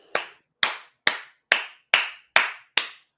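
One person claps seven times in an even, unhurried rhythm, each clap sharp, close and isolated against silence.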